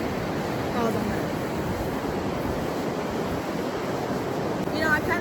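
Ocean waves wash onto a beach in a continuous broad roar of surf, loud and steady with some wind buffeting the microphone.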